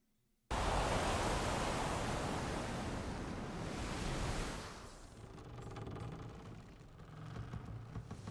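Ocean waves in a fantasy TV series scene surge in abruptly as a loud, broad wash of surf, holding steady for several seconds before easing into a lower, rumbling swell with softer rushing texture.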